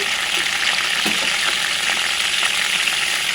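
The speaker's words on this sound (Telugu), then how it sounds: "ఇప్పుడు ఒక ప్యాన్ తీసుకొని అందులో 2 to 3 table spoons oil heat చేసుకొని అందులో కొంచెం కరివేపాకు, జీలకర్ర" Curry leaves and cumin seeds frying in two to three tablespoons of hot oil in a pan, giving a dense, continuous close sizzle and crackle with small pops scattered through it.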